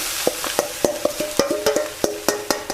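Shrimp being stir-fried in a lightly oiled pan, with a soft sizzle under sharp, rhythmic scrapes and taps of a spatula on the pan, about a dozen strokes, close by and without speech.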